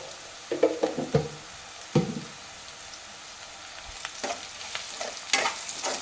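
Onions with turmeric sizzle in a pan for a carrot curry while a spoon scrapes and stirs them in several bursts, the frying hiss steady underneath and clearer toward the end, with no talk.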